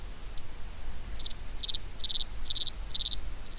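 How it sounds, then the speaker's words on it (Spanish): Stridulation of a water boatman, a tiny aquatic hemipteran insect, played back from a recording: a series of short, bright, cricket-like chirping bursts repeating at an even pace, getting steadily louder over a low background hiss. "Artrópodo más ruidoso según el tamaño. En proporción al tamaño es el barquero."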